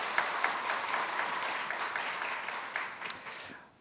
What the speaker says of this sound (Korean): 은혜의 찬양을 주신 주님께 영광의 박수 올려드립니다.